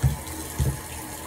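Tap water runs steadily into a sink while a doll is washed, with two low splashing surges as the water hits and is moved around, close and continuous.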